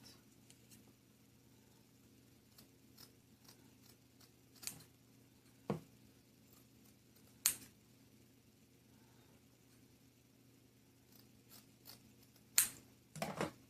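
Scissors snip through ribbon while making a ribbon poinsettia: a handful of sharp, isolated cuts spaced seconds apart in an otherwise quiet room, with a short cluster near the end.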